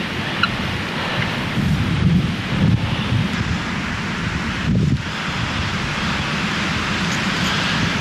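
Strong wind roars continuously outdoors on public land in New Mexico during a spring turkey hunt, buffeting the microphone with low rumbling gusts that swell and ease.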